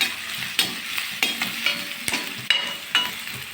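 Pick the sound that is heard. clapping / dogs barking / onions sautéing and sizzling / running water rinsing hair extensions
onions sautéing and sizzling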